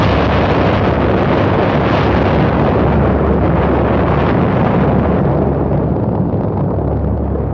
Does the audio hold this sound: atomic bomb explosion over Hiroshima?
yes